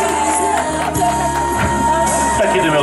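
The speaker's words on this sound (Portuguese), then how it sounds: "Palmas pra Selma!" A crowd at a Loucura de Amor family tribute in São Paulo's east side claps and cheers for Selma, loud and close, with whoops and shouts over a steady tone and music bed.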